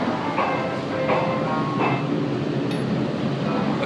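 A tram rolls steadily along its track between Las Vegas casinos toward Crystals, with a continuous close rumble and faint rhythmic clicks, and a short high squeal briefly cuts through.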